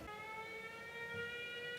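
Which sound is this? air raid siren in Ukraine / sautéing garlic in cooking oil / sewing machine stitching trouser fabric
air raid siren in Ukraine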